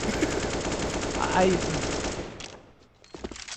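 Rapid automatic gunfire in a Counter-Strike match on the Mirage map, a loud sustained burst that cuts off near the end, with a caster's voice over it.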